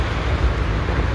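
Steady traffic noise from many cars on a road behind a park, a continuous low broadband roar with no distinct passes, heard alone.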